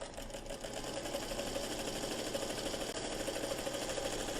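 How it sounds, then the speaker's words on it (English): A Singer Featherweight sewing machine stitches a diagonal line across gray fabric with tiny close stitches, a steady, fast, even whirring hum that runs without a break. "I'm just going to go ahead and sew that for you real quickly."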